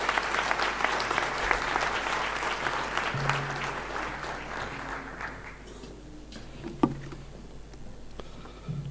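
Loud, dense applause from an audience at a University of Johannesburg ceremony in June 2016, fading away over several seconds into a quiet room with a few scattered claps and a small knock.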